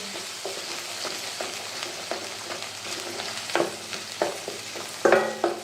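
A ground masala paste with red chili powder, for a potato curry, sautés in oil until the oil separates. A steady soft sizzle runs beneath irregular spoon scrapes and taps that grow sharper and louder near the end.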